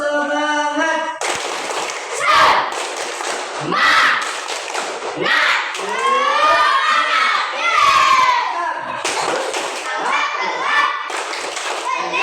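Schoolchildren in an Indonesian classroom perform a rhythmic spirit clap together, bursts of patterned clapping mixed with loud chanting voices and a teacher speaking between them.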